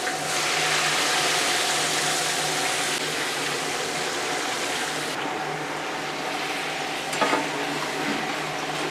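Chicken pieces frying in hot oil in a large batch for rice and chicken, a steady broad sizzle running the whole time with a faint clatter near the end and no talk.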